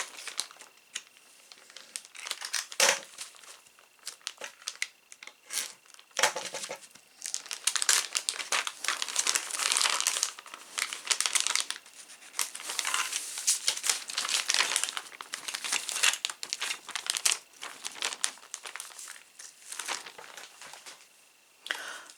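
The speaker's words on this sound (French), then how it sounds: "Je vais les déballer en même temps que vous." Crinkling plastic packaging as parts of a Star Wars X-Wing model kit are unpacked, a steady run of close, loud rustles and crumples with short pauses, no talking.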